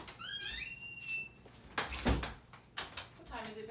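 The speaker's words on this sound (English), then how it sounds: "Oh, I should shut the door." A door is shut indoors, giving a couple of thumping bangs and rattles of moderate loudness, while a high whistling tone sounds at the start and a voice speaks in between.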